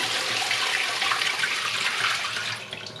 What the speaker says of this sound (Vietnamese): Cho nước lạnh vô.